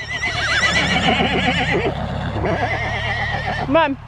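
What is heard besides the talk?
horses whinnying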